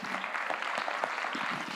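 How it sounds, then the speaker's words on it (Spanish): A church congregation bursts into brief, sustained applause during worship, with many hands clapping at a steady level from start to finish. "Dele ese aplauso al Señor."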